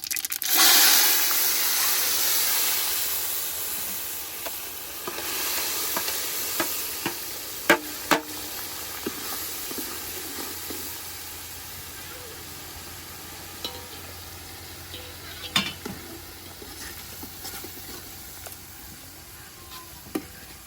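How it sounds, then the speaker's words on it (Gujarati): Sesame seeds and chopped onion sizzling and crackling in hot oil for a Bhal-style dal, a steady frying hiss with sharp pops and stirring clatter, loudest at the start as the ingredients hit the pan. "હવે નાખીએ તલ હવે નાખી ડુંગળી"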